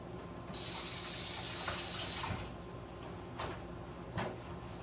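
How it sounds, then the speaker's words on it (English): Tap water runs steadily into a kitchen sink while hands are washed beneath it, a continuous close splashing hiss with a few small knocks and clatters around it. "let me wash my hands for a second."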